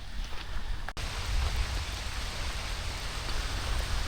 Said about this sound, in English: Maybe get out of this rain.